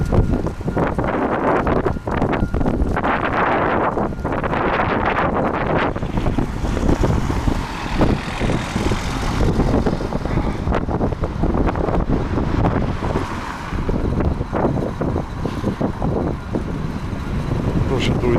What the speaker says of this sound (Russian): Тоже дует здесь ветер довольно сильный